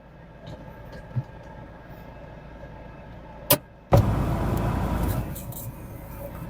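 A car pulling out during a driving lesson, with a steady engine hum that swells into louder road and motor noise near the end, after a couple of brief clicks.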